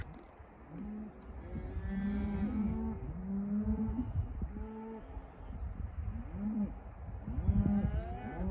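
Several cows moo repeatedly outdoors, their low drawn-out calls overlapping in an irregular rhythm, some near and some farther off, with no talk over them.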